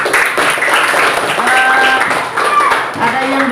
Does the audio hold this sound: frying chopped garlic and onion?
no